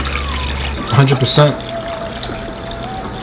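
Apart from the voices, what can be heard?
water being poured into a container for cleaning fruit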